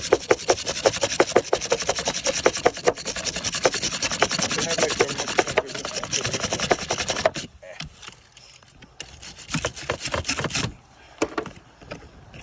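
Car battery terminals scrubbed clean with a brush, producing fast continuous rasping strokes for several seconds, then shorter scattered scrubbing bursts with pauses, close and fairly loud, no talking.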